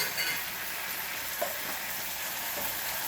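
Chicken, broccoli and mushroom stir fry with soy sauce and sesame oil sizzles steadily in a pan, a close, even hiss of frying with occasional soft stirring clicks.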